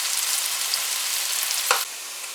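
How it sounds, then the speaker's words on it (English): Onions sizzle steadily in a hot pan for egg fried rice, a dense continuous frying hiss with a brief scrape of stirring near the end before the sizzle drops slightly quieter. "add the onions at first and cook it for a bit"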